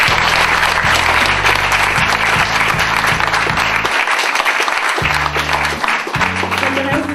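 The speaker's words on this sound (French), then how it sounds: "est-ce que vous pouvez acclamer s'il vous plaît?" Loud applause and cheering from an event audience in Cameroon, dense and continuous, with a steady electronic beat and bass thumping underneath.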